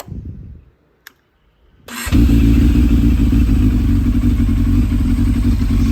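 A Yamaha FZS 600 motorcycle engine cranks over after a quiet moment with a faint click, then catches around two seconds in and settles into a loud, steady running rumble close by.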